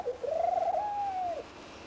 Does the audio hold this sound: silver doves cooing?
yes